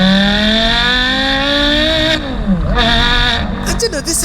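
A real Porsche Carrera GT engine screams at high revs with a steady, rising harmonic whine, then drops sharply on a slow gear shift before the revs pick up again, loud and close, with a voice talking over it.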